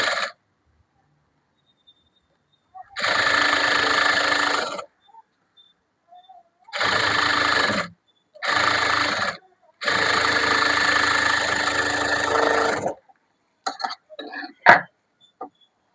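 Sewing machine stitching the sleeve of a blouse in several separate bursts of rapid mechanical clatter, each lasting one to three seconds with quiet gaps between, close and steady, followed by a few small clicks.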